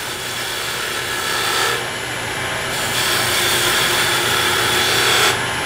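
A turning tool cuts a wood piece spinning on a lathe for furniture, using the tool's long point, with a loud, continuous rushing hiss that shifts slightly in intensity as the cut proceeds.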